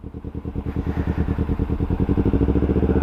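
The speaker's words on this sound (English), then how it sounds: "release the clutch up to the point and your bike start moving. Twist throttle, release more of clutch and you start moving" A sportbike engine chugs nearby as the rider pulls away, its rhythmic firing pulses growing louder and slightly faster while the throttle opens. No one talks over it.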